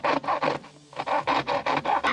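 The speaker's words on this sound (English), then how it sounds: "I'll just get a hacksaw blade now and trim around the outside." A hacksaw blade rasping back and forth around a diesel heater cutout in an offroad caravan panel, with about eight steady strokes and a brief pause partway through, loud and close.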